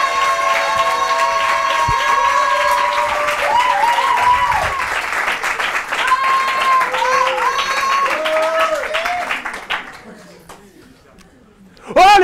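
A comedy-show audience applauds a young comedian as he is introduced, with sustained clapping mixed with cheers and whistles, then dies away near the end as a voice starts speaking.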